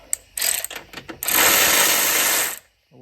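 A DeWalt DCF500 12V cordless ratchet clicks a few times, then whirs in a loud, close sustained run before stopping abruptly into near silence.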